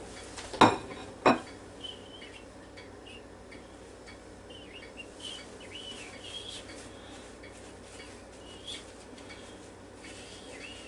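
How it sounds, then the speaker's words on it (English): A plate handled in a home kitchen while cooking ribeye, giving two sharp ceramic clinks near the start, followed by a quiet room with faint background sounds. "Got another plate here."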